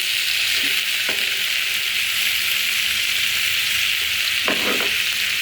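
Rohu fish curry with papaya frying in a pan, a steady bright sizzle throughout with a couple of brief stirring clatters, close and fairly loud, no talking.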